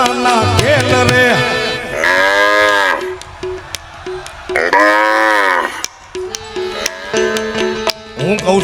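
A performer's voice imitates a buffalo calf at a folk devotional performance on Shivratri: loud, drawn-out moaning bellows that rise and fall, repeated several times and mixed with short sharp sounds.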